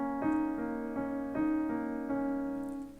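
Piano right-hand part of a song, played as an easy accompaniment: a soft, steady series of about seven repeated chord strikes in even rhythm, ringing and fading at the end.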